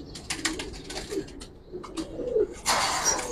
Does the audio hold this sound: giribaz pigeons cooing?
yes